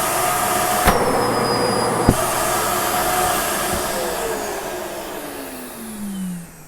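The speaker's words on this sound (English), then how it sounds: "a lot of people have seen these road vacs. I think they're the coolest thing ever. All you do is you just sweep the floor." A built-in sweep vacuum in a 2021.5 r-pod RP193 camper runs with a steady, close, whooshing motor hum, marked by a couple of sharp clicks before it slowly winds down toward the end.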